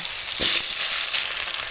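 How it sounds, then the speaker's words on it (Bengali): Steady, loud sizzling of potatoes frying in hot oil left from frying fish, a dense crackle with a brief stir or clatter partway through. "বেশ ভালো করে আলুটা লাল লাল করে ভেজে নেবো আমি"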